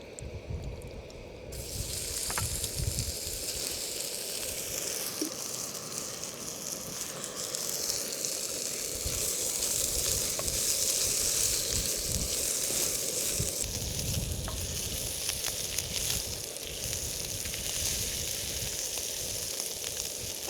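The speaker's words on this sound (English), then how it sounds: "And the last thing to do now is just cook the steak." Steak sizzling while it cooks outdoors in the Alaskan wilderness, a steady broadband hiss and crackle that runs continuously for about twenty seconds, with occasional faint pops and no talking.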